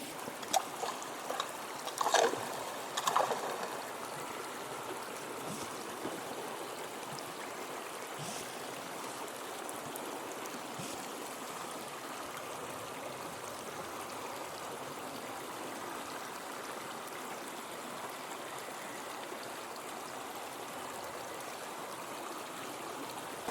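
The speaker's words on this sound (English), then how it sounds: "it's below a waterfall" A stream runs over rocks and gravel below a waterfall, giving a faint, steady, even rush of water throughout, with a few small knocks near the start.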